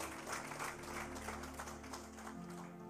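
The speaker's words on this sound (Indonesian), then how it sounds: "Boleh kita beri tepuk tangan yang terbaik" A church congregation claps during a service, with soft, scattered applause mixed with a low sustained musical tone beneath, fairly faint and continuous throughout.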